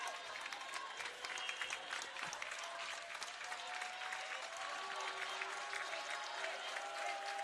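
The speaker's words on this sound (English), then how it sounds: "Get those hands clapping for Central Methodist." Sustained applause from a crowd at a women's college volleyball match between Central Methodist and Peru State, steady and dense throughout with no break.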